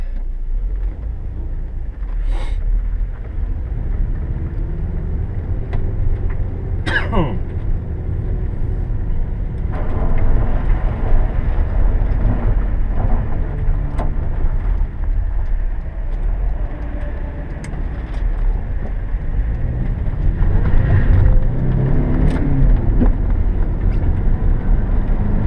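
A Volkswagen Vanagon Syncro Westfalia camper van with exhaust leaks drives along, its steady engine and road rumble continuous and close throughout, with a few brief clunks and rattles from the cabin.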